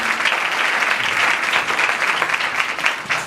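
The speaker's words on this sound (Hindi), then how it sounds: "खुदावन के जलाल के लिए जोरदार तालियां।" Loud, dense applause from a church congregation fills the space steadily from start to finish, a continuous wash of many hands clapping with no speech over it.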